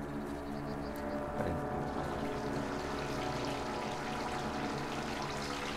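Continuous rushing water, like a forest stream running nearby in the video game Distraint, with a steady, fairly quiet flow and no voices.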